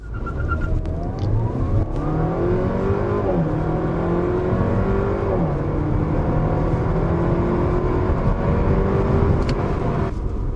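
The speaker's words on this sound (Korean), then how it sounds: "이렇게 시속 100km 가속 테스트 해봤고요" Audi A4 40 TFSI with a 190 hp petrol engine sprints to 100 km/h with slight early wheel slip; loud, steady engine roar climbs in pitch through several gear shifts, with no talking.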